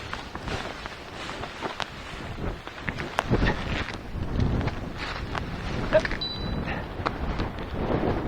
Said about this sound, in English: It got windier there.